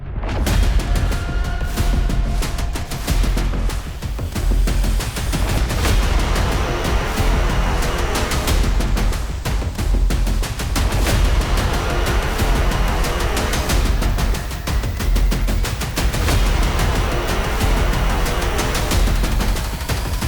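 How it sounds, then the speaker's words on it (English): A suppressed CMMG Dissent MK57 rifle fires outdoors in a dense, continuous run of loud, close reports that blend into a sustained roar lasting the whole stretch. "kept the suppressor on there, that way the gun is quiet"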